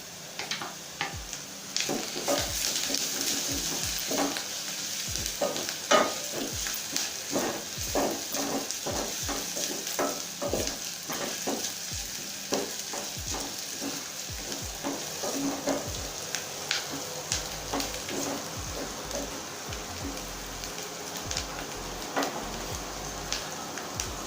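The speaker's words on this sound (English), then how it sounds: "I'm just going to give my onions time to cook until they're translucent, and then I add my ginger garlic paste" Onions and ginger garlic paste fry in a pot with a steady sizzle for a matoke and beef stew. A spoon knocks and scrapes as it stirs in an irregular rhythm, close by with no voices.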